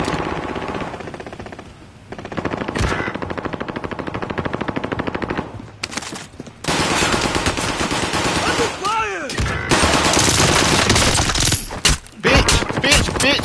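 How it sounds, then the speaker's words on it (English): Rapid, loud machine pistol fire in Call of Duty Warzone, sustained automatic bursts close up that run almost without break, with other game noises mixed in and someone talking at times. "I just had a machine pistol and went to work on him, man."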